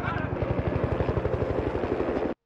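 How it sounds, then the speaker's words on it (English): A helicopter in a scene from the film The Blues Brothers gives a fast, steady rotor chop, loud and close, before cutting off abruptly. "Here, the chopper."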